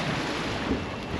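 Ocean waves wash steadily around a fishing boat on the Lower Keys, a continuous broadband rushing with wind noise and no distinct breaks, loud and close throughout.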